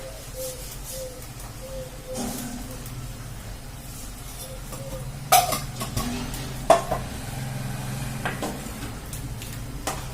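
Halwa is stirred in a pan with a metal utensil, giving steady scraping and a few sharper clanks against the pan, close by, under a faint background hum.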